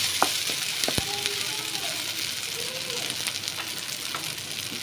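Potatoes simmering in a pan with masala and yogurt for variety rice give off a steady, close sizzle and bubbling hiss, with a few faint utensil taps and no talking.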